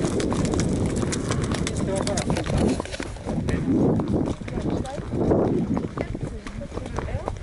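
Horse hooves clip-clop on a trail ride in Copper Canyon, Divisadero, Mexico, a steady rhythmic patter of hoof strikes close by, with a person talking over much of it.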